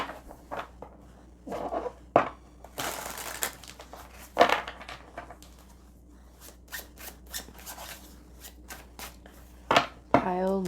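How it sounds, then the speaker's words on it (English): A deck of tarot cards is shuffled by hand, giving bursts of riffling, scraping and flicking with sharp snaps in between, up close and irregular, while a voice talks quietly in the background. "Let's shuffle. Let's get some tarot out here."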